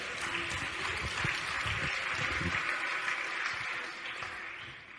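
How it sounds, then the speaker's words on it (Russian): A church or conference audience claps steadily for about five seconds after a preacher's line on poverty and mindset, a dense, even wash of hand claps that fades slightly toward the end, with no talking over it. "Дайте ему аплодисменты за эту истину."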